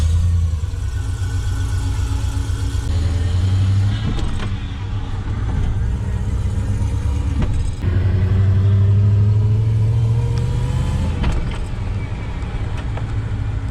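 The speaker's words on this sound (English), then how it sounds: "we'll see how the gearbox sounds also going around the block" An LS1-engined GU Patrol hums steadily while driving, with low rumbling, occasional shifts in pitch as it accelerates and changes gear, and a few clicks and knocks.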